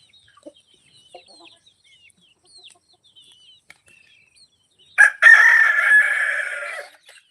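A native rooster crows loudly and close by after a few seconds of faint, scattered clucks and chirps from native chickens on a farm.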